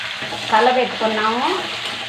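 Onion, green chili, curry leaves and a little turmeric frying in a pan for a grated raw banana dish, a close steady sizzle with a wavering tonal sound rising over it midway.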